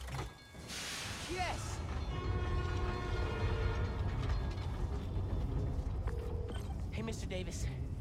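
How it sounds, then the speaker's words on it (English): Subway train from the New York setting of the Spider-Man Miles Morales game, a steady loud rumble and mechanical rattle running the whole time with a horn-like tone, under and around game sounds and voices. "My trusty New York subway."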